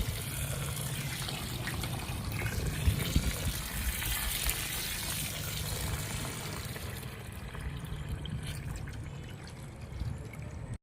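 Water splashes and pours steadily while freshly harvested wheat grain is washed by hand, a continuous close, fairly loud wet rush with a few louder sloshes, no voices.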